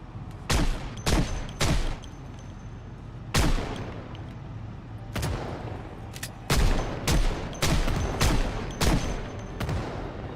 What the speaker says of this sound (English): I'll stop here and just shoot some zombies.